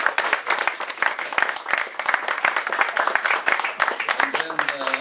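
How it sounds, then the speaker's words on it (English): A round of applause from an audience at a philosophers' café discussion, continuous dense clapping close and fairly loud, with a voice starting to speak in the final second. "So give him a round of applause."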